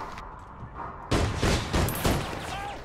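Bursts of gunfire in the online shooter APB Reloaded, a loud rapid fusillade of rattling shots breaking out after a quieter stretch and continuing in several close, clustered volleys.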